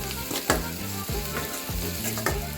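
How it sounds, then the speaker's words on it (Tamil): Masala with cumin and pepper powder sautéing in oil in a pan for chilli chapati, a steady loud sizzle with repeated stirring strokes about every half second, close up and with no voices. "இது எல்லாத்தையும் சேர்த்து நல்லா மசாலா எண்ணெயிலே வதக்கிடுவோம்."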